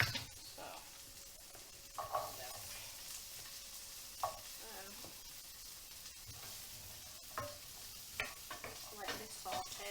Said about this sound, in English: lightly saute them